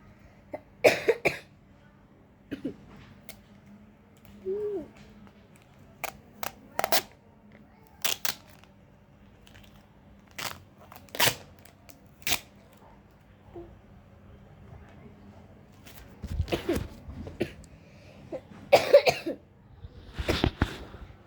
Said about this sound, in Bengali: আমার একটু কাশি হয়েছে